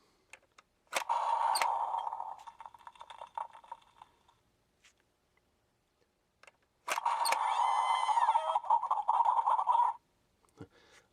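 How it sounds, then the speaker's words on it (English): A toy ram head from the Imaginext line, triggered by a button, plays an electronic chicken noise in two bursts of about three seconds each, separated by a pause, loud and close, with no talking. "love that, how it makes the chicken noise."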